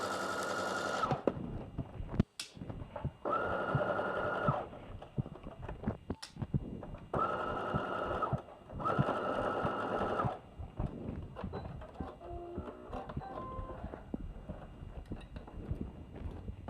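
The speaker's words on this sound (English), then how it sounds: "I am making sure not to sew on the straps because I want to try it on again before completely sewing across those straps" Sewing machine stitching a slip dress made from a New Look 6653 pattern, several bursts of fast steady whirring separated by pauses, with a couple of sharp clicks and quiet handling noise between runs.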